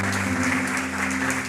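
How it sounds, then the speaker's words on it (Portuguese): A church congregation clapping together in a steady, dense burst of applause, close and loud, over a sustained low hum from the hall. "Vamos aplaudir bem forte em nome de Jesus."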